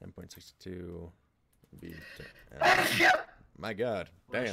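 A single sharp sneeze bursts out in the middle, surrounded by casual talk before and after it.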